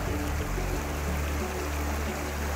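Clear, shallow mountain stream rushing over pebbles on the Gomukh trek in the Himalayas, a steady, dense, close wash of flowing water with no voices.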